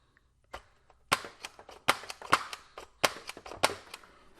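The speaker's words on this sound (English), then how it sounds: "I will finally fire a SNAPFIRE 8" A Dart Tag Snapfire 8 toy dart blaster is fired repeatedly, giving about six sharp, loud snapping cracks at irregular intervals, each followed by a brief rattle, with no talking.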